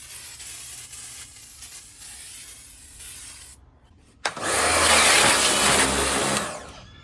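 A pressure washer blasts a vintage Victa Mustang two-stroke alloy lawnmower, a loud broadband spray hiss starting after a brief pause and cutting off near the end, with quieter rustling and handling noise before it.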